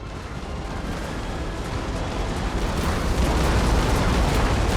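Continuous roaring friendly-fire explosions in the naval battle game Napoleon Total War, a dense, loud, rumbling barrage that builds steadily with no break and no voices.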